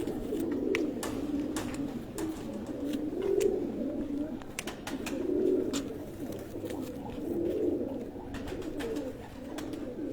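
Pigeons coo in repeated soft, low rolling calls, close by, with scattered clicks and light rustling in the background.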